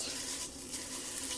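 Bratwursts sear in a hot pan with a steady, close, dense sizzle and crackle throughout, with no voices.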